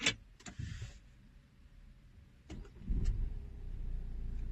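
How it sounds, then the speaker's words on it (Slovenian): A Peugeot 5008 pulls up, its low engine rumble rising and holding steady after a few brief clicks and knocks, fairly close. "Evo ga, moj avto je prišel, veš?"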